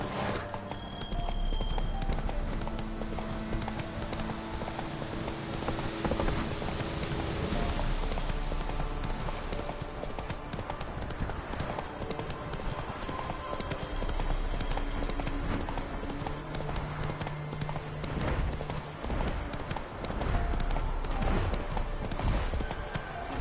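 Roach, a horse in The Witcher 3, gallops with a loud, steady rhythm of clip-clopping hooves, layered over an ongoing game soundscape of ambient music and a constant rain-like hiss for the whole stretch.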